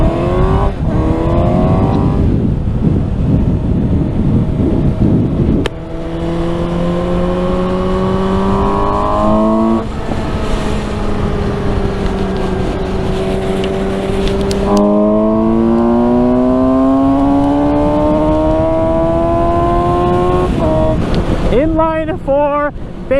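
Suzuki GSX-S750 inline-four motorcycle engine revving repeatedly, rising and falling through the gears in loud, close, sustained pulls with wind noise buffeting the microphone.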